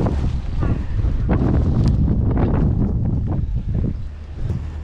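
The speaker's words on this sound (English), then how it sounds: "It's a bit blowy, isn't it?" Strong outdoor wind buffets the microphone at a boot sale, a loud, continuous roar with gusty swells, with people talking faintly beneath it.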